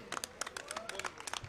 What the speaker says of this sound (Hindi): जोरदार तालियों से एक बार उनका स्वागत करें।